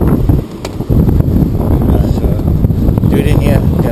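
Loud, steady wind buffeting the microphone at a beach roadside fishing spot, a continuous low rumble across the whole stretch with a brief dip, under occasional talk.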